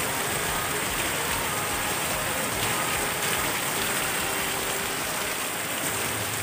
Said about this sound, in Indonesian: hujannya sangat deras.